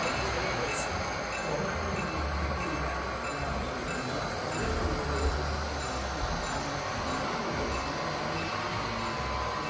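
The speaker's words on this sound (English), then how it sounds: "I have one of my locomotives here" A model train locomotive pulling a caboose around a layout, a continuous close rumble with faint clicking and rattling of wheels on track, steady and unbroken throughout.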